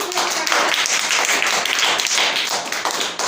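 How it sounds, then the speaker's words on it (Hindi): A burst of clapping from a group of children's hands in a classroom, brisk and continuous for a few seconds, fairly close. "पहले तो इसके लिए ताली बजा दो"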